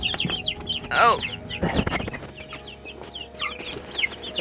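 Naked neck chickens cluck and call in a coop, with several short clucks scattered across the clip at moderate closeness, a brief human exclamation and some handling noise in between.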